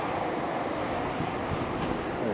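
A plenum flush in an RCA clean station runs with city water, making a steady, loud, broadband rush of flowing water that stays constant with no pauses.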